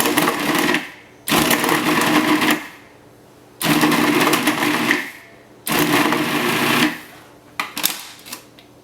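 A food processor pulses cold butter chunks into flour for a blueberry crostata, giving three loud whirring bursts of a few seconds each, split by short pauses, with a brief stuttering pulse at the end.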